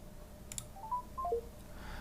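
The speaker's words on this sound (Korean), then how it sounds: "IB96 휴대전화에 전화를 거는 중입니다." A smartphone places a video call through Google Assistant: a soft click, then a short sequence of quiet dialing beeps, faint and brief against low background noise.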